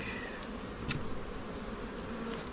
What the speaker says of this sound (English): we're gonna shake these bees into the soapy water and conduct a mite check